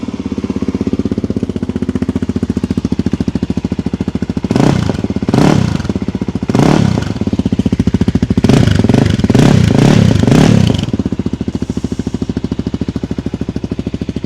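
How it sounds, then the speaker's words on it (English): A Voge Rally 300 motorcycle with a 300cc Loncin single-cylinder engine idles close up with a steady, rapid thrum, broken by several sharp revs that rise and fall, including a cluster of quick blips near the end. "I was pleasantly surprised by this little 300cc engine. It's got a lovely sound to it."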